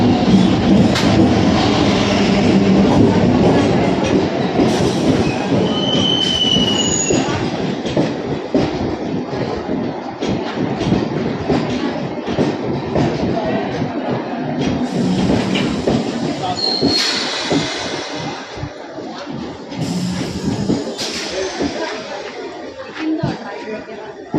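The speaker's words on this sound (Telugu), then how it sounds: "ట్రైన్ అయితే ఎక్కేసాను అనమాట ఇంటర్సిటీ" An intercity passenger train runs on its rails with a loud, continuous rumble and rhythmic clatter, plus brief high wheel squeals, while voices murmur in the background.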